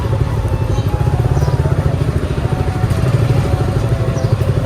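Loud, steady motorcycle engine rumble nearby, droning continuously as bikes ride along, with no clear talking.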